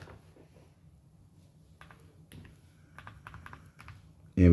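Calculator keys being typed in quick light taps, a short cluster of close clicks after a quiet pause, ending in a louder thump.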